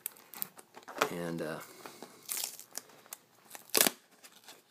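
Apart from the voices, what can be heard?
unwrapping Hot Wheels toy car packaging with scissors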